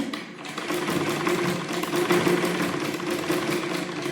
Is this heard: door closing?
no